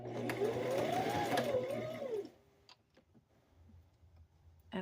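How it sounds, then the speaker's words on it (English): A sewing machine stitches the corner of a diaper cover in a short burst of about two seconds, its whirring motor rising and falling in pitch, then stopping, leaving a quiet room with a few soft clicks and handling sounds. "I'm back stitching a little bit more than 1 or 2, maybe like 3 stitches"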